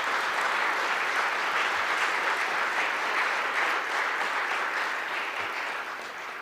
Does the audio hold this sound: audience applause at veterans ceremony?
yes